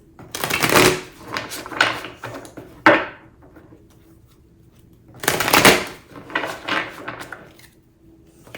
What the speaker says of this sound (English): I'm going to give these a nice little shuffle